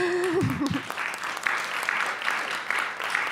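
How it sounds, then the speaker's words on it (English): Applause from a conference audience greeting energy-policy panel speakers, which starts just as a voice trails off and then continues as dense, even clapping from the hall. "I think they need an applause."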